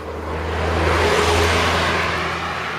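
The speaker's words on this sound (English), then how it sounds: "Car coming." A car passes on a road in Essex, its broad tyre and engine noise swelling to a peak midway and fading, loud and steady under a low rumble, with no talk.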